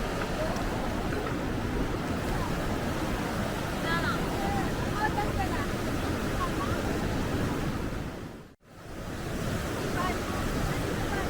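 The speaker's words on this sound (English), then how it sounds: "and there we see the falls" Water thunders down at the base of a waterfall beside a river crossing in the Banff, Yoho and Kootenay mountains: a loud, steady, close roar that fills the whole clip, broken only by a brief dropout near the end.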